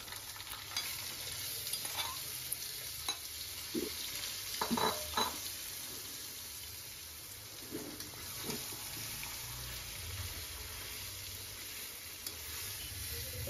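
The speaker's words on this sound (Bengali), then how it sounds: "এখন আমি কচুটা ছেড়ে দিব।" Taro pieces frying in hot oil with garlic, turmeric and chilli, a steady low sizzle broken by a few clattering stirs, fairly quiet and without talk.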